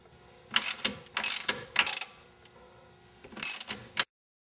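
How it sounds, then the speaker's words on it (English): A ratchet tightens a strut nut on a 2000 Pontiac Bonneville in three close, crisp bursts of rapid clicking, then a pause and a final burst before it stops abruptly. No voices. "As you tighten the nut, it'll pull the bolt in and the serrated grooves will lock it in place."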